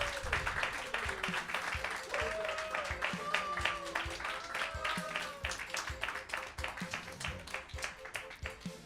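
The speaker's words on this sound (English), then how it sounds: "Can I have one huge applause for Zemmol?" Audience applause at a Smash Bros Ultimate tournament grand finals, a steady dense run of clapping that holds for several seconds, with a voice carrying over it.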